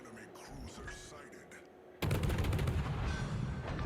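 Ship guns firing in World of Warships, a sudden loud naval salvo bursting in halfway through and sustained as a dense rumbling barrage over the game's ambient background noise.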